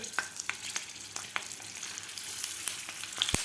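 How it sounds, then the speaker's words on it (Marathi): Masala-stuffed green chilies frying in hot oil, a steady crackling sizzle with scattered sharp pops and a louder spatter near the end, close and without talk. "तेल आपलं गरम झालेलं आहे यामध्ये आता आपल्याला हे मिरच्या सोडून घ्यायच्या आहेत"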